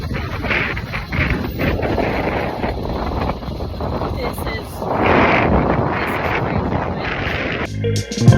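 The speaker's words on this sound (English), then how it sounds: "It's just a little windy." Wind buffets the microphone in gusty, rumbling bursts outdoors, rising to a stronger gust midway, with a voice mixed in and a sharp handling noise at the end.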